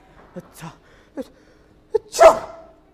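A short, sharp sneeze cuts in near the end, following a few brief spoken sounds in a quiet room.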